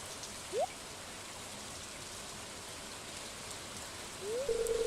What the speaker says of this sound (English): watching the curtains of rain whisper above a silent lake